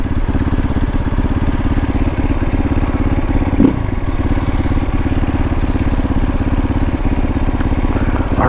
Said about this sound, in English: I really, really enjoy the sound of this bike.